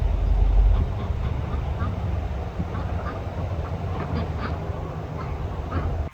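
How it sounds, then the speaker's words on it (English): Ducks foraging outdoors in grass and mud, scattered soft quacks and dabbling over a steady low background rumble, with a heavy thump at the start. "I have Dabbles, Mumbles, and all the ducks out here foraging in the grass and the mud"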